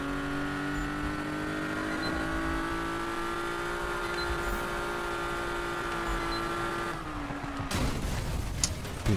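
A Porsche 911 engine racing in Need for Speed holds a loud, sustained whine that climbs slowly, then drops sharply near the end into rougher noise.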